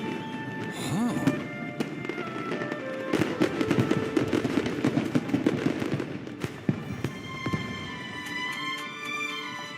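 Fireworks show in the video game Genshin Impact: repeated crackling bursts and pops over several seconds, loud and close, with sparkling fizz trailing after each burst.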